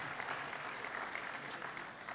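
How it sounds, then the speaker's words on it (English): Faint, steady applause from a conference audience at a defense intelligence summit plenary, a continuous wash of clapping heard from a distance with no talk over it. "another round of applause"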